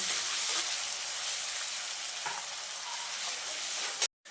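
Crushed garlic, onion and chopped green chilli sizzle steadily in hot oil for an egg masoor dal, a continuous close frying hiss that cuts off abruptly near the end.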